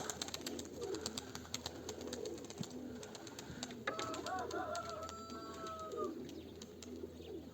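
Domestic pigeons coo in a loft, soft throaty calls repeating over a busy background of rustling and clicks, with a clearer run of cooing near the middle.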